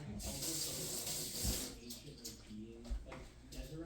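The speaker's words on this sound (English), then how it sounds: "Just rinsed out my teaspoon so I can reuse it." A teaspoon is rinsed under a running kitchen tap: a quiet, steady stream of water with small splashes and shifts in flow, while a voice murmurs faintly underneath.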